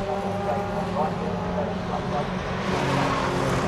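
Toyota MR2 race cars race at Donington Park, their engines droning steadily in the background while a commentator talks over them.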